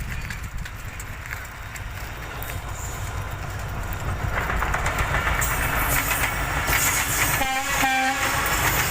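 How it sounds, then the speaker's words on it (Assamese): A train pulls away from Tihu station in Assam and passes close by a road. Its steady rumble and clatter build up, and a loud horn blast sounds near the end. "এই ৰেল আহি আছে পিছফালেদি, টিহু ষ্টেচনত ৰখিছিল, ষ্টাৰ্ট দিলা"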